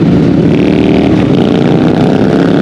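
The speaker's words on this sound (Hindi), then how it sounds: "आप देख सकते हैं कि काफी ज्यादा पटाखे मारते हुए बाइक जा रही है मजे से" A motorcycle out on a Sunday ride passes loudly and close, its engine roaring steadily with crackling, popping backfires from the exhaust.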